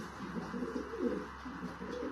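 Soft, low coos of Şebab pigeons in a coop repeat in a steady burbling rhythm, close by, over a faint background hum.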